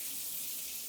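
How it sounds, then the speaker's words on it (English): Water pours from a shower head and a tub filler at once over a freestanding deep soak tub, a steady close hiss of running water with no talk. "if you've got the shower head on and the tub on at the same time, as you can see, the water comes out of both at the same time"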